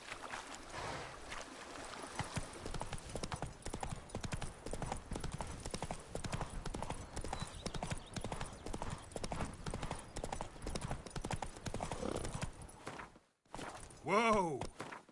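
Roach, the horse in Witcher 3, trotting with rapid, even clip-clop hoofbeats close up. A neigh follows after a short pause near the end.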